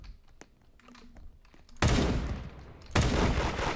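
Gunshots in the Roblox game Da Hood: quiet clicks and ambient game noise, then a sudden loud burst of rapid gunfire, a brief gap, and a second loud burst.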